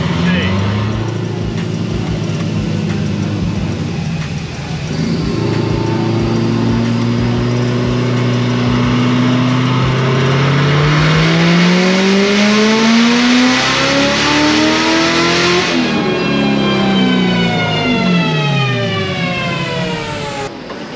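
Supercharged LT4 V8 in a vehicle on a chassis dyno, loud and sustained as it climbs steadily through the revs in a long pull, then drops briefly and rises again before easing off near the end.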